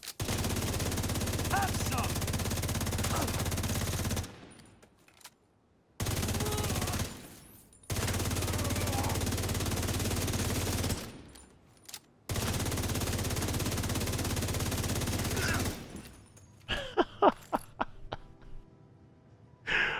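Sustained automatic fire from the St Elmo rifle in The Division 2, three long loud bursts each lasting several seconds with brief gaps, followed by a few sharp separate shots.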